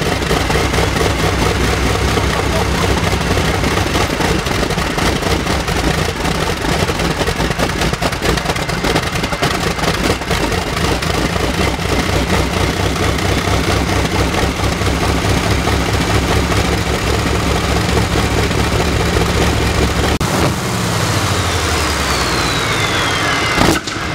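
A rare old aircraft engine runs loud and steady with a rough, throbbing drone for about twenty seconds, then winds down.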